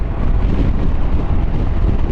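Wind roars steadily over the rider on a KYMCO DTX 360 maxi scooter, a dense low rush of buffeting air across the microphone, loud and continuous.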